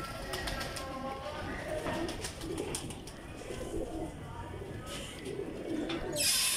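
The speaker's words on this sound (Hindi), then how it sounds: "बड़े खूबसूरत कबूतर" Lal Pari pigeons coo in soft, repeated throaty bursts at close range, with a brief brighter noise at the very end.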